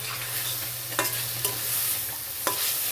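Leafy greens stir-fry with a pinch of poppy seeds, a steady sizzling hiss under a few brief scraping stirs of the spatula in the pan.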